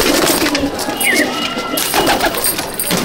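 Old-breed pigeons coo in short repeated calls close by, with a busy background and some voice-like sounds mixed in.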